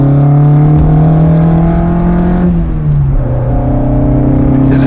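Alpine A110 Berlinette on the Montlhéry circuit accelerating at full throttle, a loud sustained engine roar heard from inside the car with a drop in pitch at a gear change before climbing again.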